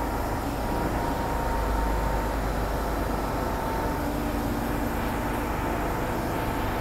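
A continuous low rumble and steady roar of a Hong Kong MTR Island Line M-Train in motion, loud and unbroken for the whole stretch, with no voices.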